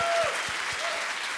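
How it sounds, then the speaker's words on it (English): An audience at a corporate conference summit gives a brief burst of dense applause, the clapping loud at first and then easing off slightly. "Truly round of applause for Rhoda."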